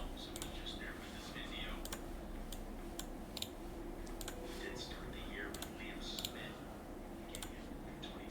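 Quiet, irregular clicking of computer keyboard keys as a name and email are typed into a form, short bursts of taps spread across the clip under low background hum, with soft speech at times.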